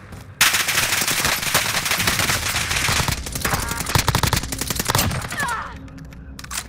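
Rapid bursts of automatic gunfire in a video game rattle loudly and almost continuously, with sharp cracks overlapping, then taper off near the end.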